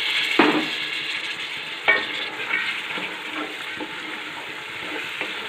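Half a kilo of peas tipped into matar pulao frying in a pan over medium heat, sharp clattering hits followed by continuous sizzling and stirring scrapes, close and moderately loud.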